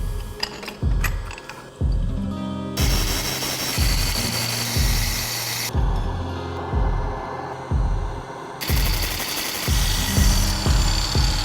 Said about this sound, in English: using an angle grinder in the lathe